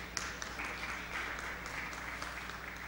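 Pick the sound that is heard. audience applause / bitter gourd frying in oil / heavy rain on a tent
audience applause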